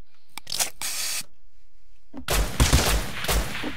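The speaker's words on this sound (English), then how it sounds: "shots all over you again" Gunfire in the video game Rust rattles in quick bursts, with a short volley near the start and a louder, denser string of shots in the second half, separated by a near-silent gap.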